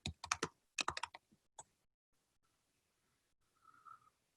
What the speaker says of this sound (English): I'm going to type mine in right now.